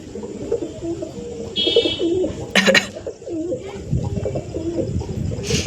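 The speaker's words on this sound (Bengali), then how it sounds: "দেখো কোয়ালিটি দেখো পায়রাটা" Andra tournament pigeons coo softly and repeatedly in a loft amid a low, continuous background murmur, with a brief sharp clatter midway.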